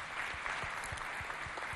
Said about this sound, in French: Je vais vous demander d'applaudir d'abord ça.